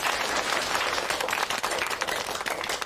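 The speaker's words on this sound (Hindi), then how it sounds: "चलो, उसके लिए तालियां बजाते हैं।" Audience applause, a steady, dense crowd of hands clapping at moderate loudness with a few sharper individual claps standing out, no speech over it.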